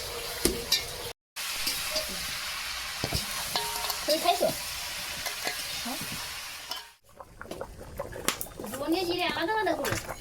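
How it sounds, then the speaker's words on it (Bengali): Curry sizzling in a pan over a wood fire, with stirring scrapes and splatter throughout a steady fry, briefly cut off near the start, and voices including someone talking over it in places. "দেখো তরকারিটা জাল হচ্ছে কত সুন্দর"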